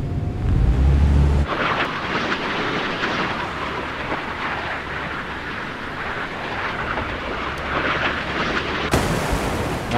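Naval close-in weapons fire in the Sea Power naval combat video game as a sustained, roaring rumble of rapid shots that runs loud and steady for several seconds after a deep boom.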